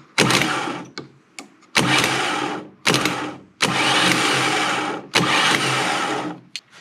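A BMW E36 starter motor on a bench, jumped across its terminals with screwdrivers, whirs in five loud bursts of one to two seconds each, separated by silences and small clicks.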